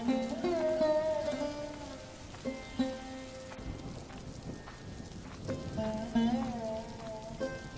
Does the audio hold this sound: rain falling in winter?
yes